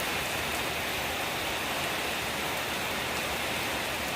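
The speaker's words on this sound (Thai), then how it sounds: "ฝนตก" Rain falls as a steady, dense hiss of drops on surfaces, even and continuous, moderately loud, with no voices.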